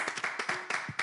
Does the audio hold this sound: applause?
yes